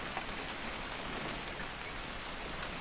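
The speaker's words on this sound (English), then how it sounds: "It's gonna rain the whole weekend, isn't it?" Steady rain falls throughout a scene in What Remains of Edith Finch, a continuous soft hiss of drops on surfaces with no other sounds standing out.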